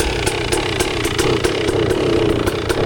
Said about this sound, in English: he's going to let me take his EX 300 out for a ride